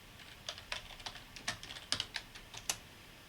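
Irregular keystrokes on a computer keyboard at a home music-production desk, a dozen or so crisp clicks at close range with no voices.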